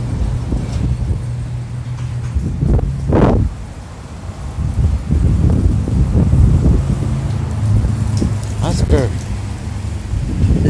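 Strong outdoor wind blusters steadily across the microphone for the whole stretch, with gusts and rustling, while a person talks over it during a short walk with a cat.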